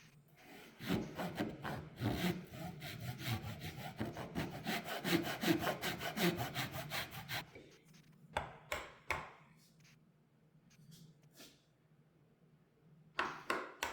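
Hand saw cutting a wooden tenon, a steady run of rapid rasping strokes that builds and then breaks off, followed by a few scattered scrapes and taps close by.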